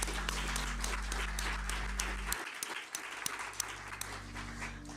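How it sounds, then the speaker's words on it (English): Audience applause at a NASA science event, a steady wash of clapping over a low musical bed that cuts out midway, the clapping continuing with scattered distinct claps. "please join me in yet another round of applause to celebrate them"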